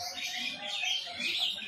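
Pigeon chicks give soft, rapid, high-pitched squeaks and chirps at close range while their mother feeds them.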